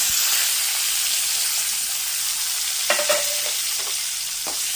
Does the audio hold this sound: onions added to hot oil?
yes